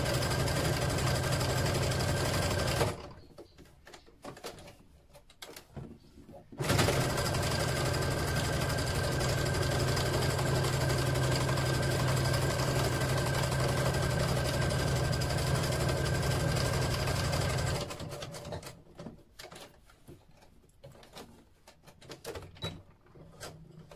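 Sewing machine running seams about 3 millimeters from the edge of fabric for a book bag, a steady close mechanical whir in two long runs separated by a pause, with stops and handling noise between.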